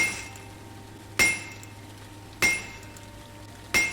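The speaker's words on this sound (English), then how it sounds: "I think it's because I was hammering." In a blacksmith video game, a hammer strikes metal on an anvil three times at an even pace, each a sharp ringing clang that fades before the next, over a quiet background.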